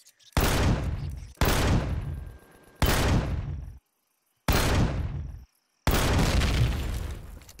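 A sentry gun in Empyrion Galactic Survival fires five heavy, booming shots in uneven succession. Each is close and loud with a short ringing decay, and brief silences fall between some of them.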